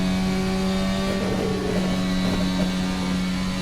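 Open-wheel VRC Formula Alpha 2024 race car engine in Assetto Corsa, a steady loud droning whine with strong tonal harmonics and a slight rise and waver, running continuously without talk.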